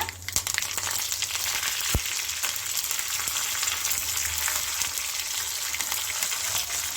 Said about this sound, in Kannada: ಎಣ್ಣೆ ಬಿಸಿಯಾಗಿದೆ ಇದಕ್ಕೆ ನಾನು ಸ್ವಲ್ಪ ಸಾಸಿವೆನ ಹಾಕ್ಕೊಳ್ತಾ ಇದ್ದೀನಿ